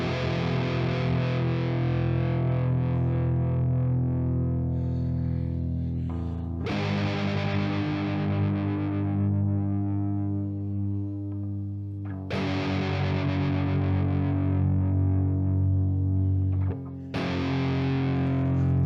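Electric guitar at maximum gain through a modeled Sunn amplifier in ToneX, heavy distorted chords ringing out loud and sustained, struck anew about every five to six seconds with no voices.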